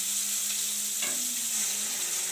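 Steady, loud sizzling of dal being tempered in hot fat, with a brief stirring scrape midway through the continuous hiss.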